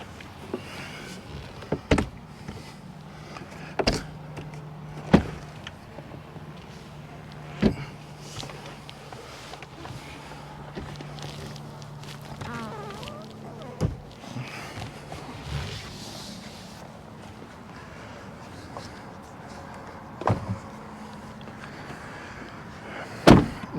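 Convertible soft top of a 2021 Ford Bronco Big Bend being folded back by hand, heard as a series of sharp clicks, latches and thumps spaced across the clip over a low steady hum, close and moderately loud.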